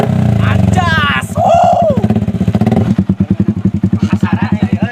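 A new motorcycle idles close by with a loud, rapid, even engine pulse, while people talk over it in the opening seconds.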